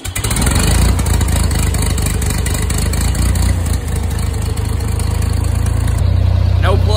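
An old gas tractor, started in cold weather of about 40 degrees with the choke on, runs at a loud steady idle close by, a continuous low throbbing engine hum throughout.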